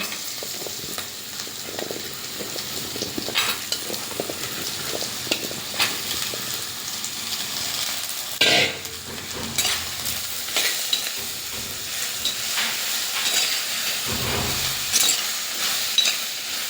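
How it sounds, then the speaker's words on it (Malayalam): Sliced plantain and onion sautéing in oil for a Kerala-style plantain curry, with a continuous soft sizzle broken by repeated scraping stirs of a spoon against the pan. "നേന്ത്രക്കായയും നമ്മൾ അവസാനം ചേർത്ത് സവാളയും കൂടെ ഒന്ന് എണ്ണയിൽ കിടന്ന് വഴണ്ടി വരുമ്പോൾ"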